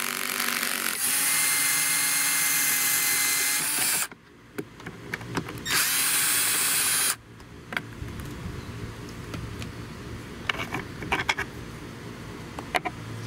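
A power driver spins out a long Torx 30 screw on a SeaDoo watercraft, whirring loudly in two bursts of about three seconds each, separated by quieter clicks and handling noises, with no one speaking.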